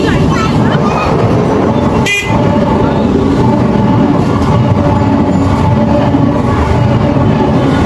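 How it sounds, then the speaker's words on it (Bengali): A loud, continuous rumble of a train passing close by at a railway station in Konnagar, with a short horn-like burst early on and steady rolling noise throughout. "ট্রেনের আওয়াজ শুনতে পাচ্ছ"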